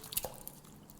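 Water drips and splashes briefly into a bowl while being measured out for gravy, a couple of quick close liquid spatters followed by quiet.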